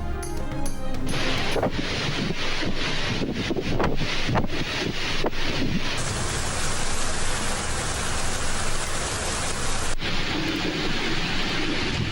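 Heavy torrential rain pours steadily in Sindh around Islamkot, Nagarparkar and Chachro, a dense, loud wash with gusty wind buffeting the microphone throughout and no talk.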